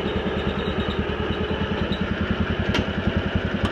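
A 1987 Cub Cadet 1204 garden tractor engine runs steadily up close, a low, even, rhythmic chugging pulse with no one talking.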